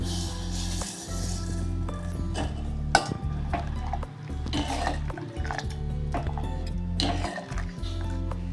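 Roasted vermicelli stirred into cooked moong dal in a pot for payasam, with a spoon scraping and clinking against the metal in an irregular rhythm over a steady low hum.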